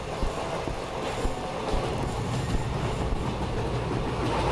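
Train rolling along rails in an Indian horror train game, a steady full-band rumble with faint clatter running throughout, loud and continuous with no talk.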